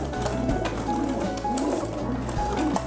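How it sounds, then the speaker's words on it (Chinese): A young pied-headed pigeon, one to two months old, coos in soft repeated low rolling calls over a steady background hum, close by, with no talk. "这个鸽子是最小的，"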